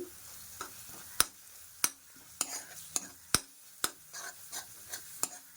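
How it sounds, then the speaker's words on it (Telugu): Onion paste and ginger garlic paste fry on low heat in a pan for a prawn and egg curry. A steady soft sizzle runs under repeated sharp clicks as a spatula stirs and scrapes. "అల్లం వెల్లుల్లి పేస్ట్ కూడా వేసుకుని బాగా వేగనివ్వాలండి"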